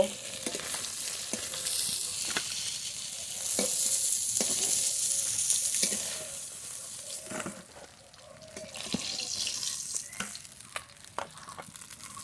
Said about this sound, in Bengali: আলু দিয়ে মাছ দিয়ে ঝোল রান্না করব তাই আলু ভেজে নেব